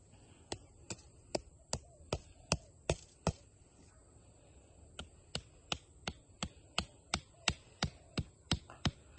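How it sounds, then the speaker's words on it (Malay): A hammer taps a marker into the soil to set out the edge of a garden bed. Some two dozen crisp, close taps come in a steady rhythm with a brief pause in the middle, and no talk is heard. "kita ketuk sikit dengan tukul"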